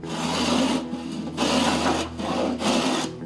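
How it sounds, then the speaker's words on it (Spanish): Sanding a wooden coffin during construction, a steady raspy abrasive rubbing in three long strokes with brief pauses, close and loud, no talking. "Viene el proceso de lijado."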